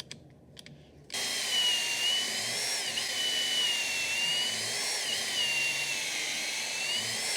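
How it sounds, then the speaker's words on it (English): Drilling pocket holes in walnut with a Kreg jig: a faint click or two, then a sustained high-pitched whine of the drill biting steadily into the hardwood, wavering slightly in pitch as it runs. "Some of these pieces are easier to drill."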